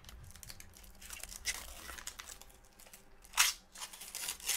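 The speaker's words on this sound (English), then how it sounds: "Go ahead and take off plastic." Protective plastic film is peeled off an Intel Arc A380 graphics card, giving faint crinkling and a sharper tearing rip near the end, close and quiet.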